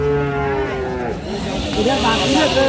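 Dairy cows and calves at a busy weekly livestock market in Dinajpur, Bangladesh, give a loud, close, drawn-out moo that wavers in pitch, with a second lowing call rising over the crowd murmur.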